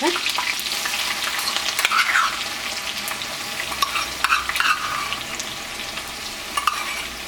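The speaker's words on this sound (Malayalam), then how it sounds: "ഇതെല്ലാം കൂടിയിട്ടൊന്ന് മൊരിയിച്ചെടുക്കുക" Crushed ginger, garlic, green chillies and dried red chillies fry in a pan for a pickle, giving a loud continuous sizzle with frequent stirring scrapes and clicks.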